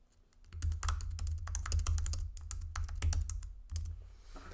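Typing on a computer keyboard while writing a short post to share online: a steady run of quick, close key clicks with brief pauses, no talking.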